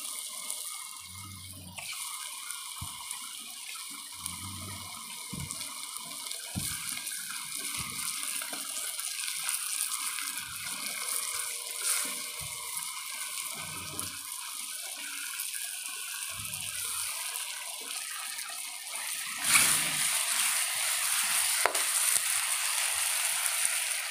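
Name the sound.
water being poured into pot of chicken gizzard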